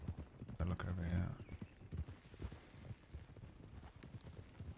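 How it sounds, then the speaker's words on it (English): Hooves of a tired horse clip-clopping in a video game, quick light irregular footfalls close by that run under players chatting, louder at first and then settling into softer steps. "That's a tired horse."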